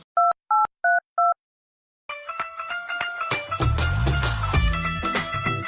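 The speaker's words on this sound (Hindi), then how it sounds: "ये काम करूँ अपनी बहू के फोन मिलाऊं" A phone number dialed by keypad: four short, evenly spaced DTMF beeps ring out alone, then after a brief silence a ringing and busy phone line takes over, with layered music-like tones.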